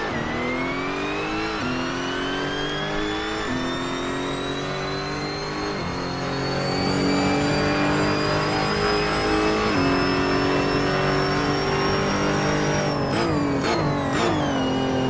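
A Lotus race car engine in the video game Assetto Corsa revs high and climbs in pitch through the gears, dropping briefly at each shift, loud and close with a sharp whine.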